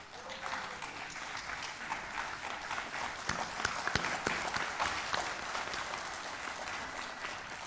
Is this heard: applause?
yes